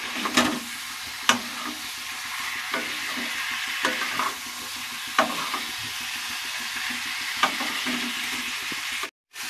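Chicken with ginger paste fries in a pan for a Bengali-style stew, a steady close sizzle broken by regular scraping knocks of a spoon stirring, with a brief cut to silence near the end.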